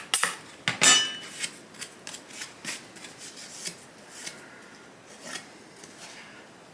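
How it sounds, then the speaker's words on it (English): A knife scoring and cutting through high impact polystyrene (HIPS) plastic sheet, giving close scraping and rasping strokes, loudest at the start, then a run of softer repeated scratches. "where the knife cuts through the plastic and pushes it up out of the way"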